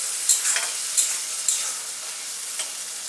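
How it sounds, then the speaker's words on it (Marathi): Diced potatoes and capsicum sauté in a pan, a bright steady sizzle broken by a few sharp scrapes and clinks of stirring, close and with no voices. "एक मिनिटभर मी चांगलं परतून घेणार आहे"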